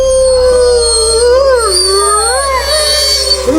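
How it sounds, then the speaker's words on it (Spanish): Powerful, sustained howling from wild pack leaders, several overlapping wavering howls rising and falling together, loud and close with no talk. "Los líderes alfa, al frente, imponen su autoridad con aullidos poderosos y posturas amenazantes."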